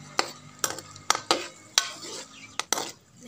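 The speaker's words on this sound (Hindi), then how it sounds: "अब हम प्याज को हल्का ब्राउन करेंगे।" Sliced onions are stirred in a pan while they brown for an egg and onion fry. A utensil strikes the pan in sharp, irregular clinks over a faint background sizzle.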